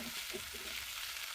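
Green chillies and ginger garlic paste sauté in oil for a Chettinad chicken gravy, giving a continuous, even sizzle up close with faint stirring underneath.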